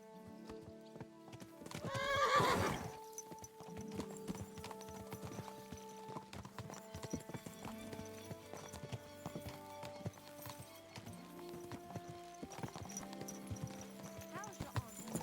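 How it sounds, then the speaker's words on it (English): Horses ridden out by a mounted company in Kingdom Come Deliverance, a loud whinny early on followed by steady clip-clopping hooves and tack jangling, with talking over the riding. "So mount up and we'll ride out."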